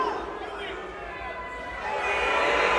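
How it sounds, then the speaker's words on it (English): A crowd at a Power Slap event roars and cheers in a continuous, swelling wash of voices that grows louder toward the end, with commentators talking over it. "The crowd are loving it."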